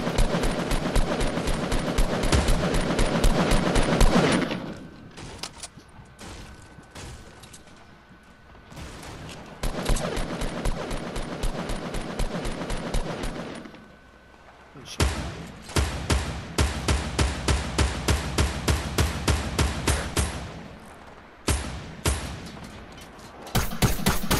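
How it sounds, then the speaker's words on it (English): Fortnite battle royale gunfire in bursts of rapid, evenly spaced shots, loud and close, broken by quieter gaps, with players talking over parts of it. "you hear a sniper, stay down"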